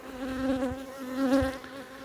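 Bees buzzing around flowers, a close, steady insect drone that swells and fades as they move, heard with no voices.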